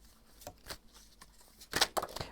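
Tarot cards are shuffled by hand in a few soft, close riffling bursts and slaps, with a denser flurry of card noise near the end and no speech.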